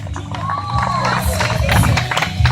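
A fair crowd at a martial arts performance cheers and claps, a loud mix of shouts, whoops and scattered applause with some voices talking over it.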